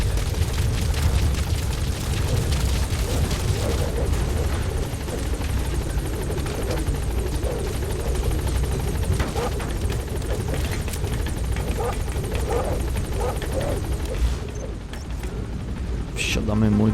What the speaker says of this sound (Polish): Lecimy zatem naszego helikoptera, będziemy się już wracać do naszej bazy.